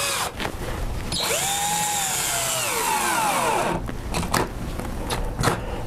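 A cordless power drill drives small screws into a homemade multi-color T-shirt printer, a loud, close whine whose pitch swoops and sags under load for a few seconds, then short tapping and handling noises.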